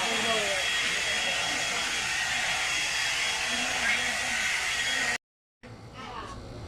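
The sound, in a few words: hair blower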